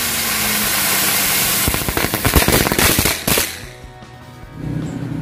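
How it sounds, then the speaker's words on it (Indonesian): A lotus flower firecracker, a mercon lit during Ramadan celebrations, crackles loudly in a dense burst of rapid pops lasting about two seconds, preceded by a steady hiss and followed by quieter ambient rumble. "Yang selanjutnya kita nyalakan mercon bunga teratai"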